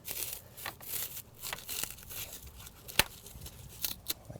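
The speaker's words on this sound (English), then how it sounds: "I like to use a coping saw blade" A thin, flexible coping saw blade slices through cured expanding foam around a poorly installed exterior door, giving quiet, uneven rasping and crinkling strokes with a few sharper snaps, close by and alone.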